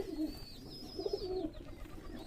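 Pigeons at a pigeon farm giving a short, low coo, fairly faint and close, over a quiet hum of background noise.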